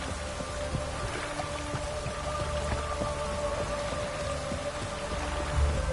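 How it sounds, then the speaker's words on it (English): Steady rain falling in The Witcher 3: Wild Hunt game world, a constant even patter of drops on surfaces, moderately loud and unbroken, with a faint low rumble near the end and no voices. "Looks like rain."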